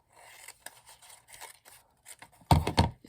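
Scissors snipping through a paper tag, heard close up: several soft, small cuts, then a louder, crisper run of snips near the end.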